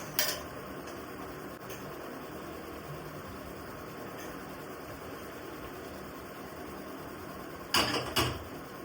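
Ragi and date ladoo mixture is scraped from a hot kadhai onto a plate: faint, sparse metal scrapes over steady background hiss, then two louder clattering clinks close together near the end, with no talking.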